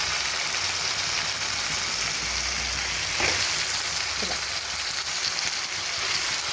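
Chicken fries in a pan with ginger-garlic paste, giving a steady, dense sizzle, joined by a couple of brief stirring scrapes around the middle.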